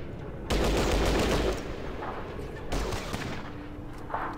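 Gunfire bursts out in Fallout Tactics, with two loud volleys of rapid shots separated by a short lull and a faint ringing tone fading in near the end.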